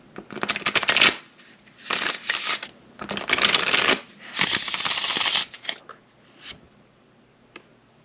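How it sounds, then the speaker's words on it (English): Tarot cards being shuffled by hand during a reading, heard as several loud riffling bursts of about a second each, separated by short pauses, then a few lighter taps near the end, with no voice. "I'm going to pull a card or two or three"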